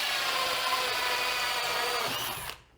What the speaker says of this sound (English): So I can clamp that and then start the hole saw in that.